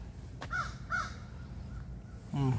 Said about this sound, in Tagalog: Ibon ang maingay.